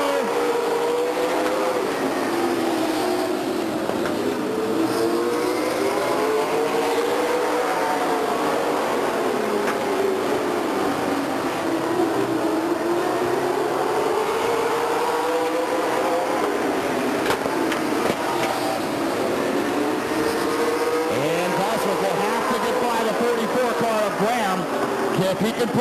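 Race cars circle laps at Stockton 99 Speedway, a continuous engine roar whose pitch swells and falls as the field passes, with a commentator talking over it throughout.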